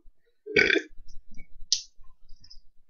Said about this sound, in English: Sorry for my blurping. Burping.